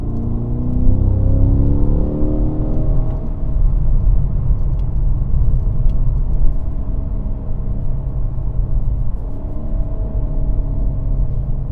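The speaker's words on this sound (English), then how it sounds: "I can kind of hear the pops and burbles in the exhaust" A 2025 Cadillac CT5-V Blackwing engine on its most aggressive setting rumbles loudly up close, revving and settling into a deep, throaty idle with a steady exhaust drone and no talking.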